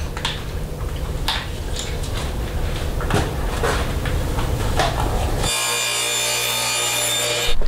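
A handsaw rasps through quarter-inch plywood in a garage, giving steady back-and-forth strokes, then a harsher, denser grinding cut near the end. No voices are heard.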